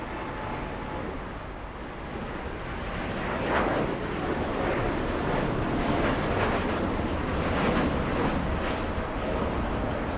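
Japan Airlines Boeing 787 jet at LAX, a steady broadband engine roar that holds throughout and swells slightly midway, heard at a moderate distance with no talk over it.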